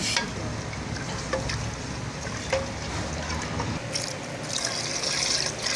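A mug of water pours into a pot of chana rice, a continuous close trickling and splashing that runs for several seconds at fairly even loudness.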